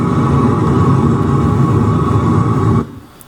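A waste oil burner torch fed with preheated air roars loud and steady at close range, a dense continuous rumble that cuts off abruptly near the end.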